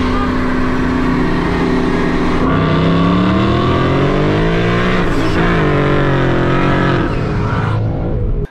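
A supercharged Mustang GT with 3.55 gears races hard, its engine roaring loud and close as it revs and pulls through rising gears, with no talking over it.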